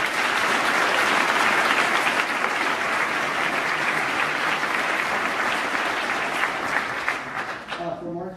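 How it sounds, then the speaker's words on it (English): A large audience at a university speaking event breaks into sustained loud applause, dense clapping that holds steady for several seconds, then thins and fades out at the end. "So a huge round of applause"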